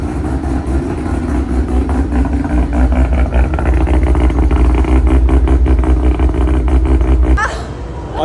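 A rotary-engine sleeper car idles close by with a loud, throbbing, choppy burble at a steady pace, then cuts off near the end, while people talk nearby.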